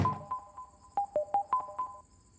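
A short electronic phone ringtone plays a quick series of bright, repeating beeps for about two seconds, moderately loud, with no talking.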